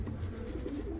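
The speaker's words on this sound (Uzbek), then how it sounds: "Qizil chinni urug' bo'lgan bu kaptarlar." Red chinni breed domestic pigeons coo in a low, soft, continuous murmur close by, with no voices.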